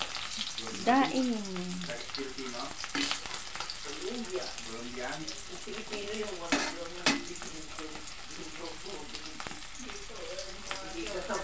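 Dried fish (daing) fries in a pan for breakfast, sizzling and popping steadily while background voices talk faintly over parts of it and a utensil knocks now and then.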